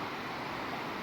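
Logan River flowing below a canyon trail, a soft continuous wash of rushing water heard from well above, faint and even with no voices.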